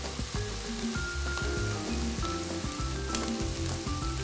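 Tomato puree sizzling in a hot pan for spaghetti bolognese, a steady, soft crackling hiss that carries evenly throughout.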